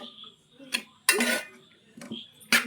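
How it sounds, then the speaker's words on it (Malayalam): A utensil scrapes and clinks against a pan while fried rice is stirred, several short metallic bursts close by with quiet gaps between them. "റൈസ് ഇട്ടു. ഇളക്കുന്നുണ്ടോ?"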